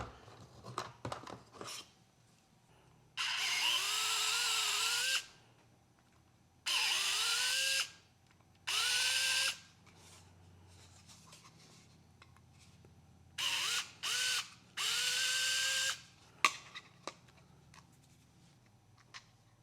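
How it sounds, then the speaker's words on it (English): A small electric drill whirs in several short bursts, each spinning up with a rising pitch, separated by quiet pauses and light handling clicks. "Let's drill them out to 3."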